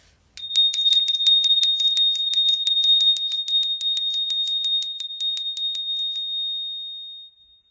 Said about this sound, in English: that was a good bell ring